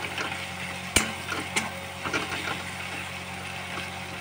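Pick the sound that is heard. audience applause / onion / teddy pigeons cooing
onion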